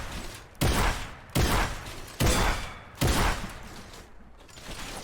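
Shotgun blasts fired in Fortnite: four loud, sharp booms spaced roughly evenly, each decaying quickly into a low ambient game background, with no talking.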